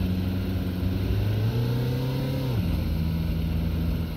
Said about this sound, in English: That actually sounds like one of them old Toyota engines